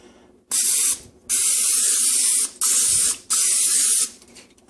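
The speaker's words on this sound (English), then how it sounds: "You take whatever cooking spray you're going to use," Four sharp hissing bursts of cooking spray, each lasting under a second, close and loud with short pauses between.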